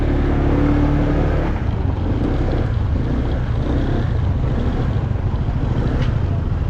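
Steady motorcycle engine drone on a countryside ride in Malico, Pangasinan, loud and continuous with heavy wind rush over the microphone, no speech.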